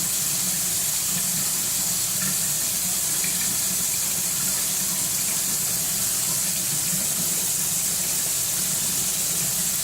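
Cold water runs steadily from a tap before shaving, a continuous close hiss and splash without a break and with no voices.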